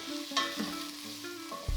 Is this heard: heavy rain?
no